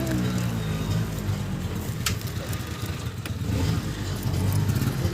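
An auto rickshaw engine runs steadily throughout a ride, a continuous rumbling drone with wind rush and a couple of brief clicks, fairly loud and near.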